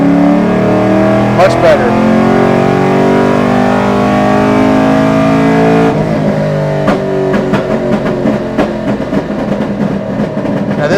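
A BTR Stage 3 LS3 Camaro running E85 revs hard on a dyno in a third-gear pull, its loud engine note sweeping upward, followed by crackling, popping burbles, with a brief voice over the roar.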